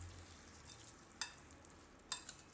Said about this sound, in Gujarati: આ વઘાર આપણે આની ઉપર નાખી દઈશું. અને મિક્સ કરી લઈશું વઘારને.